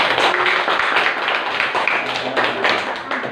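A classroom of pupils clapping for a classmate, a short burst of brisk, close hand claps that stays lively for a few seconds, with a voice faintly among them.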